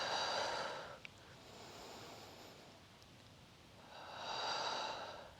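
Slow, deep breaths during a poolside yoga flow, a long airy inhale-exhale at the start and another swelling near the end, soft and close with a quiet lull between.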